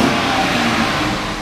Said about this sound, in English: You can kind of hear the exhaust.